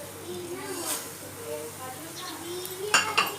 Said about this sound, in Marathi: आता आपण शेव टाकूया.